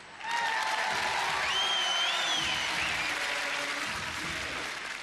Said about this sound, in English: look at that crowd as one in rhythm